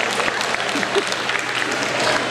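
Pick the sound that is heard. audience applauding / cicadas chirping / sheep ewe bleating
audience applauding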